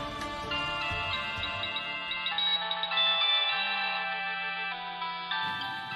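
A mobile phone ringtone plays for an incoming call, a steady melodic electronic tune repeating clearly for several seconds with no talk.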